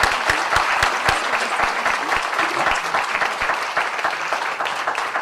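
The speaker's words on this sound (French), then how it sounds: "pendant que vous les applaudissez" An audience at an annual general meeting claps steadily and warmly, a dense wash of many hands applauding for several seconds without pause.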